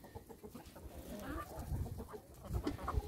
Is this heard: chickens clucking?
yes